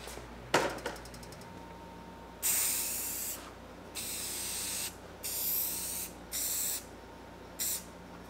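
Water-based TotalBoat Halcyon clear coat is sprayed in several separate bursts of hissing, each one to two seconds long, after an opening clack and a quieter steady background.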